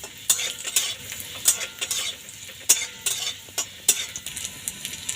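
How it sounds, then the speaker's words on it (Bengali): Garlic cloves fry in hot oil under a soft sizzle, punctuated by repeated sharp metallic scrapes and clinks of a spatula against the pan at a roughly steady pace. "এর মধ্যে আমি এই রসুন কোয়াগুলো ভেজে নেব।"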